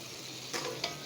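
Chopped tomatoes frying with turmeric and spices in a pan for a mutton and potato curry, a steady soft sizzle with two brief stirring scrapes, close and alone.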